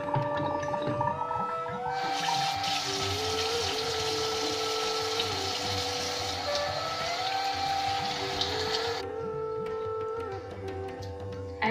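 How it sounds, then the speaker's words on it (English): Tap water runs steadily into a sink as hands are washed in a home kitchen before cooking, a continuous splashing stream that swells louder in the middle stretch, with no talk over it. "don't forget to wash your hands before cooking"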